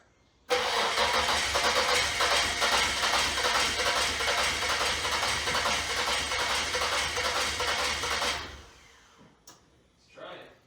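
A car engine cranks hard and keeps trying to start, a loud, sustained rhythmic churning that cuts off abruptly, followed by quiet and a few faint sounds.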